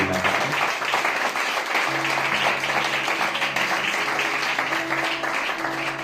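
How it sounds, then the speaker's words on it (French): A church congregation applauds, sustained and dense clapping from many people filling the room for several seconds, with faint musical tones underneath. "Nous allons acclamer Jésus."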